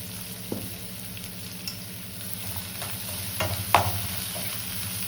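Small onions (shallots) sizzle steadily in hot ghee in a home kitchen pan, with occasional stirring scrapes and soft pops over a continuous frying hiss.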